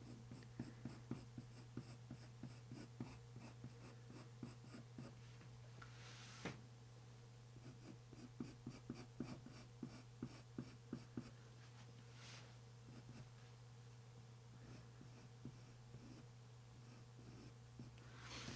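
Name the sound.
dark sepia pencil drawing on paper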